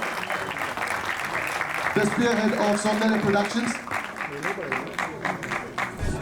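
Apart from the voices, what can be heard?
audience applauding the film producer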